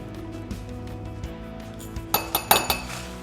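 Bath salts stirred in a glass bowl: a soft scraping mix with a few scattered clinks of a utensil against glass, then a quick run of sharper, brighter clinks near the end, close and unaccompanied by talk.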